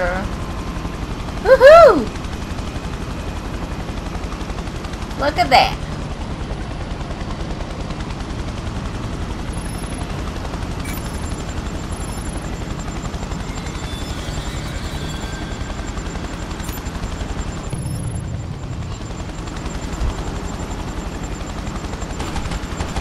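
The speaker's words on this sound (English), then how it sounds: "Alright, now we are driving a helicopter." A helicopter in the video game Prototype drones on as a steady whir throughout, with a few sharp bursts of firing early on and a player's excited voice briefly cutting in over the engine.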